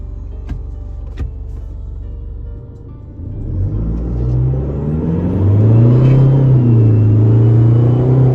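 Isuzu D-Max 2020 pickup with a 3.0 engine and tuned setup, heard from inside the cab as a low engine rumble that swells and climbs in pitch while accelerating, with two faint clicks near the start.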